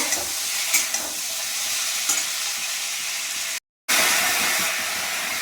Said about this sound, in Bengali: এগুলো আমি দিয়ে দেবো। ভালো করে নেড়ে নেব।